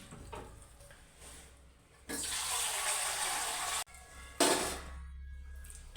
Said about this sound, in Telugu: నీళ్ళు ఎక్కువ పోసుకోవాలన్నమాట,